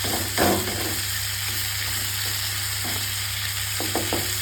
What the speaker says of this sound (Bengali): এগুলোকে সুন্দর করে একসঙ্গে নাড়াচাড়া করে বেশ কিছুটা সময় একটু ভাজা ভাজা করে নেব